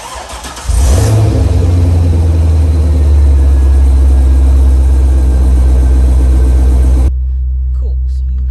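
A Corvette engine cold-starts with a brief crank, catches and flares to a loud rev, then settles into a steady, booming high idle before the sound drops away near the end.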